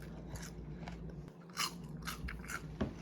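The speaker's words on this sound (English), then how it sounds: "Listen to this crunch." Crisp crunching bites and chewing of homemade french fries, several distinct crunches spread unevenly over a few seconds, close and fairly quiet with no talk.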